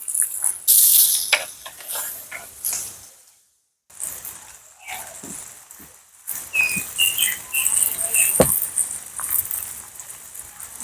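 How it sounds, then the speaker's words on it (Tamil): Onion, green chilli and curry leaves sautéing in hot oil give a steady, close crackling hiss that briefly drops out, then resumes with occasional utensil clinks and faint bird chirps behind it. "வெங்காயத்தை போடுவோம் அதோட பச்சை மிளகாய் கருவேப்பிலை எல்லாத்தையும் போட்டு நல்ல வடிவாக அந்த எண்ணெயில வதக்கி எடுப்போம்"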